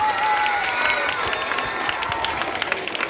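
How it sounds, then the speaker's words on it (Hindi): A crowd applauds warmly at a school prize distribution, a loud, sustained wash of clapping with some cheering and faint voices mixed in beneath. "तालियों के साथ स्वागत"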